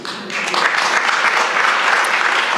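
Steady, dense applause from an audience at a State of the City address in York, Pennsylvania, filling the whole stretch with close, continuous clapping and no pause.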